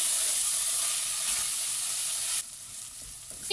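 Close, steady sizzling and frying hiss as chili flakes and black pepper are stirred into melting butter in a pot, with a slight drop in intensity partway through and faint spoon scrapes.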